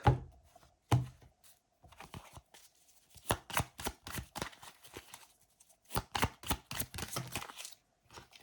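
A tarot card deck being cut and handled, a run of crisp close card slaps and riffling bursts in irregular clusters, separated by short quiet gaps, with no talking.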